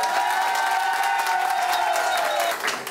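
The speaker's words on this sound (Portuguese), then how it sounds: "Palmas são sempre bem-vindas." Audience applause and cheering for chef Antônio Valêncio at a chefs' cooking duel event, a steady dense wash of clapping with whoops, loud and continuous before tapering off at the end.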